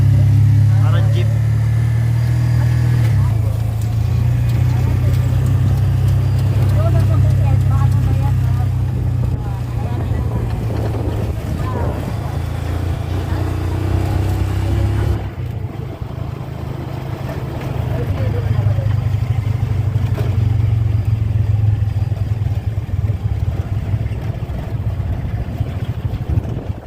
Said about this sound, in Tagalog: Ayan yung tricycle. Tricycle nila dito guys.